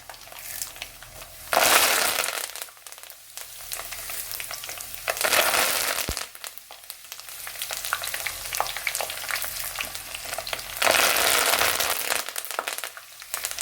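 Small onions and curry leaves sizzle and crackle in hot oil for a tomato pickle, bursts of loud frying alternating with quieter stirring, close up with no talking.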